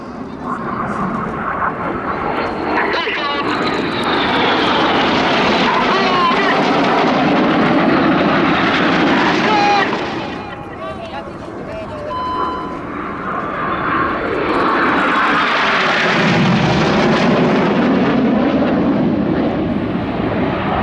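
Red Arrows jets flying the slingshot manoeuvre at an air show in Athens roar past loudly and continuously, with a brief dip in the middle before the engine noise swells again.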